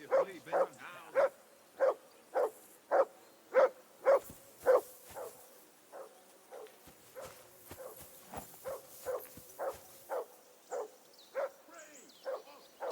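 Dog barking in the medieval role-playing game Kingdom Come: Deliverance II, a steady run of about twenty evenly spaced, fairly close barks that soften a little toward the end.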